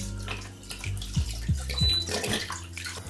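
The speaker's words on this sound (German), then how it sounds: "Ich gebe die ganze Flasche, das ist ein 3/4 Liter," A full bottle of wine poured into a cooking pot with star anise and cloves for a Christmas mulled drink: a close, glugging stream of liquid splashing steadily into the pot for a few seconds.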